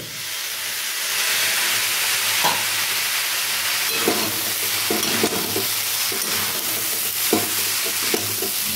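Street-style vegetable chowmein stir-fries on high heat with a loud, constant sizzle, punctuated by repeated sharp clanks of a spatula tossing noodles against the pan.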